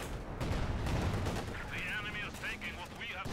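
Artillery fire from a leFH howitzer in a strategy video game, a dull low boom with rumbling blasts in the opening seconds, mixed with battle noise and someone talking over it.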